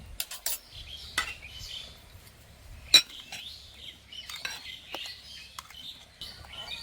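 Semolina batter with chopped coriander, cumin and salt stirred with a spoon in a bowl, giving sparse clinks and scrapes of metal against the dish, close and fairly quiet, with faint chirping in the background.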